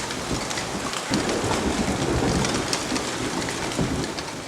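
Steady heavy rain pours throughout, with low rumbling thunder rolling underneath; no voices, just a dense, continuous wash of falling water.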